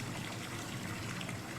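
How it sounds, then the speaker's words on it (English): Steady rushing running water playing as background sleep ambience, an even, continuous gush at low volume with no talk. "how do you feel about running water ASMR in the background?"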